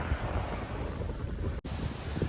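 Strong wind roars and buffets the microphone on a hilltop in Nagaland in a loud, continuous rumble, with a brief dropout partway through.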